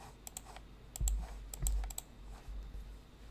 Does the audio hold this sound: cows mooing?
no